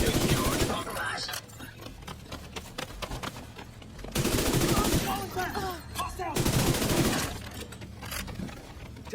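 Gunfire in The Division 2 during the SHD Exposed global event, rapid automatic bursts crackling in dense volleys that swell and fade, with loud clustered salvos near the start, middle and later, over game sound and occasional voice lines.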